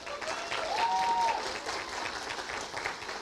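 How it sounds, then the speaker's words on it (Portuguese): A church congregation claps for its leaders in a sustained round of dense applause filling the hall, with a brief tonal squeal partway through. "Você pode aplaudir os nossos líderes aí?"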